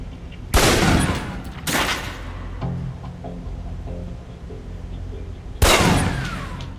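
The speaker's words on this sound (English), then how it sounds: "Equip the pistol, then aim down range and take some shots at the target." Pistol shots fired at a range target in the video game Alpha Protocol: two loud, sharp reports close together near the start, then a third after a pause, with a quiet low hum in between.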